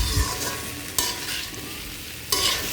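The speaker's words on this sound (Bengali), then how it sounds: "আর একটু কষাবো ভালো করে।" Fried green jackfruit and potatoes sautéing with spices in a pan, a constant sizzle broken by a few sharp scrapes and knocks of a stirring spoon, close by with no talking.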